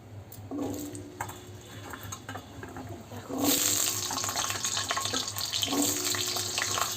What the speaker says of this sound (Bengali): এই কড়াইটাতে আলুগুলো দিয়ে দেবো আলুগুলো ভাজবো লাল লাল করে